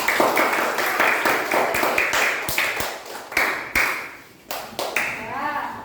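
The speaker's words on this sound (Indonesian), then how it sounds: "Sekarang kita beri tepuk tangan untuk kelompok 2." Classroom pupils clap for group 2, a loose, uneven patter of separate claps in short bursts that stop and restart, fairly close and moderate in volume.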